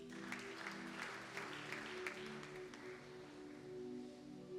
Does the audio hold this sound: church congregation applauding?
yes